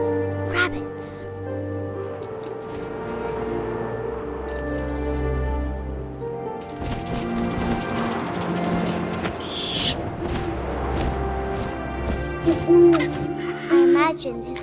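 An owl hoots in the video game What Remains of Edith Finch, several distinct hoots near the end over wind, ambient music and a narrating voice.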